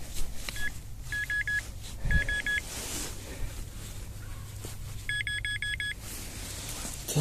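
Rutus Alter 71 metal detector sounding short bursts of repeated electronic beeping tones while searching in the field, in clusters of quick pulses with gaps between, over low background rumble.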